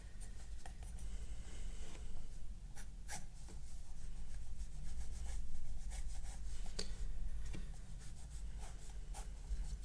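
A pencil scratches and rubs across paper while sketching a hand, close and fairly quiet, with repeated short strokes and taps over a steady soft scraping.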